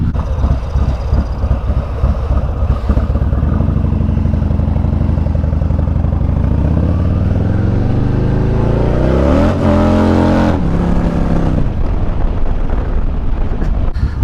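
A 2019 Harley-Davidson Fat Bob custom motorcycle cruising through a small Michigan town, its engine rumbling steadily with loud wind buffeting throughout, rising in pitch as it accelerates near the middle before settling back.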